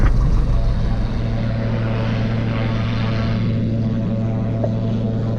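A light propeller airplane flying over a runway before joining the left downwind leg. A steady, loud engine and propeller drone holds throughout at an unchanging pitch, with no talk.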